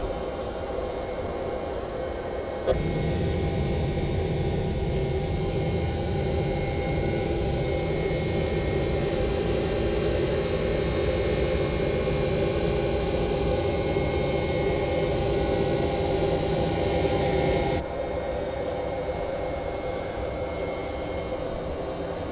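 Jet engines of a FlightFactor 767 in a simulator climbing out, a steady loud roar and whine that holds evenly for the whole stretch, with a slight jump in level early on.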